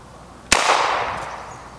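A shotgun fires a homemade candy shell at a pumpkin outdoors, giving one sharp, loud blast followed by a short fading tail.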